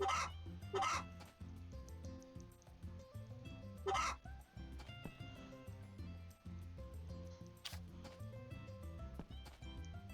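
Chickens cluck in the farming game Story of Seasons, with a few sharp clucks and squawks over looping background music and soft game sounds.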